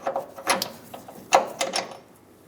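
Bolt being worked loose from the front upper control arm of a 2003-2009 Dodge Ram 2500 with a ratchet: a few short, close metallic clicks and rattles in irregular bursts, with quiet pauses between them.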